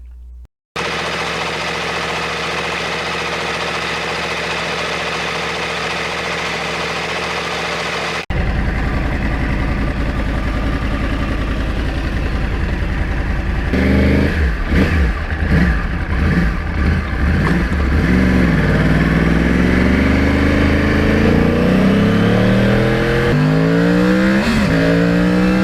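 A Yamaha R1 crossplane motorcycle engine idles loudly up close, then is blipped in a run of sharp throttle revs that rise and fall repeatedly.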